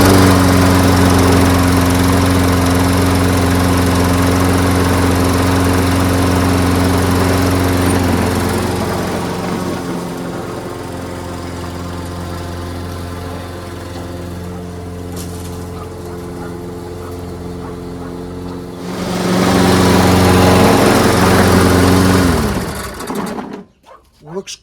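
A Toro Recycler Personal Pace self-propelled lawn mower, carburetor freshly cleaned, runs steadily nearby with a loud droning engine hum, dips to a quieter idle midway, revs up again, then cuts off near the end.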